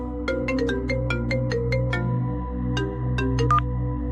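An incoming-call phone ringtone plays a bright, repeating electronic melody of short chiming tones in a quick rhythm, loud and close, with a steady hum beneath and no talking.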